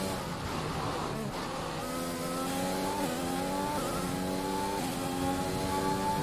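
Orange McLaren Formula 1 car from the F1 2021 racing game, its engine droning steadily with rising harmonic revs as it accelerates, loud and continuous throughout.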